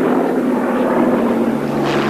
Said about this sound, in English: With the distinctive drone of its Rolls-Royce Merlin engine, a Hawker Hurricane takes to the skies